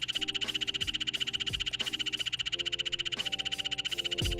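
Tree frog calling in a rapid, steady pulsing trill that carries throughout, with a few deeper croaks from other frogs nearby and no voices.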